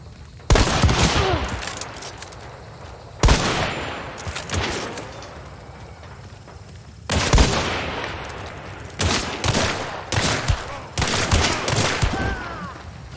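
Gunfire in the Louisiana swamp shooter Hunt: Showdown, with several loud bursts of rapid shots and single heavy blasts separated by pauses, echoing off into the distance.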